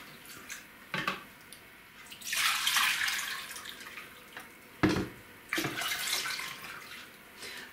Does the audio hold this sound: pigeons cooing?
no